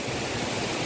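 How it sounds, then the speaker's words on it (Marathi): Vyaghreshwar waterfall at Manche, Devgad in Sindhudurg district gushes in a steady, loud broadband roar with no breaks, heard close and alone without any voices. "तो काय धबधबा ओसंडतो"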